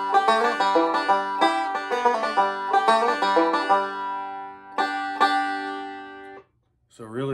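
Banjo playing a G run, bright picked notes in quick rolling bursts with a hammer-on and a slight string bend, close and clean, ending in a brief pause and a short spoken word.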